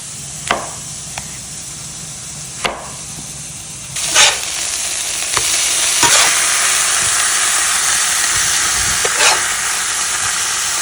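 Burgers fry loudly with a broad, steady sizzle that swells partway through, while occasional sharp knocks and clinks of a utensil on the pan sound close by.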